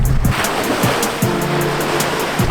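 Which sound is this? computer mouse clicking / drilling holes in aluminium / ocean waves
ocean waves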